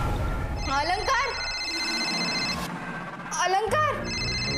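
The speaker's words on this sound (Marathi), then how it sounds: "फोन आलाय. मग उचल." A telephone rings in a home setting from a Marathi TV serial, with two bursts of a ringing tone heard alongside people talking.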